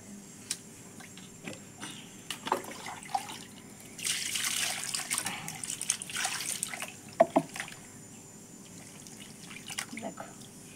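Running water from a tap rinses meat that has been washed with lemon juice, a steady splashing trickle with scattered drips and a louder gush in the middle, close by in a kitchen.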